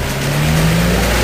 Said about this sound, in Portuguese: Acelera com tudo